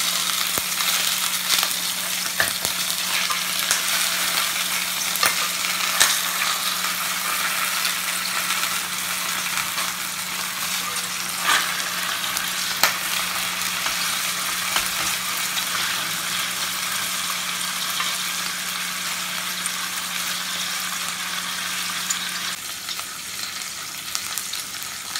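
Confit lamb shanks frying in a pan with thyme and rosemary, a loud continuous sizzle with scraping stirring strokes throughout, ending with the sizzle dropping slightly near the close, no voices.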